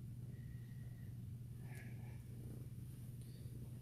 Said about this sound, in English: I don't know if y'all can hear him purring.